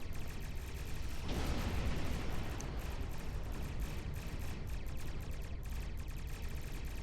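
A ship explodes in Star Trek Online space combat: a sudden loud, rumbling burst that swells and then trails into a long, dense roar of debris and weapon noise.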